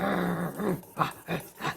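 A person imitating a dog's growl during an emotion-venting exercise, a low rumbling snarl followed by a few short throaty grunts, close and fairly loud.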